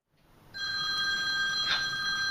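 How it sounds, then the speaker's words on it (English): An electronic telephone bell starts ringing after a brief silence and holds a steady, bright tone loud and close, ahead of a school's Sunday night phone call. "Time for Mrs. White's Sunday night phone call."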